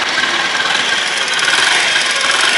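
A Honda CD 90 Benly motorcycle engine runs at a steady idle close by, a loud, even mechanical chug that continues throughout with no talking.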